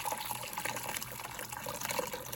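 Liquid pours steadily into a strainer in a continuous splashing stream, close and moderately quiet, with no voices.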